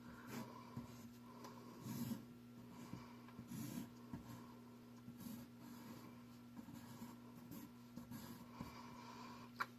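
A pen drawing ovals on paper during a cartooning lesson: faint, soft scratching strokes in short bursts over a quiet background.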